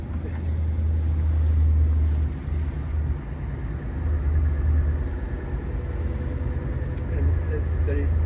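Deep engine rumble from a Scania 770S semi truck with 770 horsepower, swelling and easing as it pulls under load, heard from inside the cab with a steady low drone.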